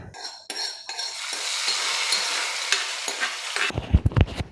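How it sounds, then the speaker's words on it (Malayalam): A hot tempering is poured into Kerala sambar and bursts into a loud, steady sizzle that holds for several seconds, then gives way to a few clattering utensil knocks near the end, close up with no voices. "വറവ് നമ്മുടെ സാമ്പാറിലേക്ക് ചേർത്ത് കൊടുക്കാം."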